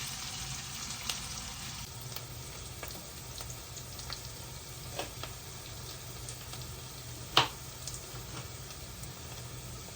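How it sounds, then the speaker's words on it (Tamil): Onions sauté in a pan for an ivy gourd gravy, a gentle continuous sizzle broken by sparse ticks and one sharp clink near the end. "இப்போ வெங்காயம் வதங்கட்டும்"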